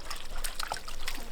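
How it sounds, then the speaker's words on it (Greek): A dog urinating outdoors near a waterfall: a short, close, steady trickling and splattering of liquid over a faint background, lasting just over a second. "Κατουράει."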